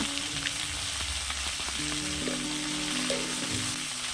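Mixed vegetables for a Bengali chorchori with Malabar spinach frying with salt and turmeric over medium gas: an even, close sizzle with faint stirring, steady for the whole stretch, over a soft melodic backdrop.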